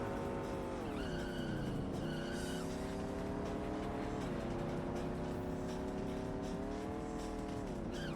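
High-revving race car engine at around 6,000 RPM in the arcade racing game San Francisco Rush, a raspy, continuous harmonic drone rising and falling in pitch with shifts, fairly distant and steady, no talking.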